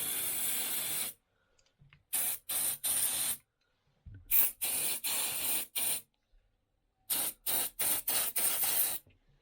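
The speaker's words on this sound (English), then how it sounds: "Spray it on there." Crack It shock release spray from an aerosol can, used while servicing a tap, hisses in several short bursts: one long blast, a quick run of three, a cluster, then a final rapid series of five, with silent pauses between.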